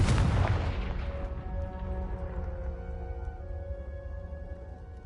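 A Confringo blasting spell detonates in Hogwarts Legacy with a single loud, close boom, its rumbling tail and ringing echoes slowly fading over several seconds.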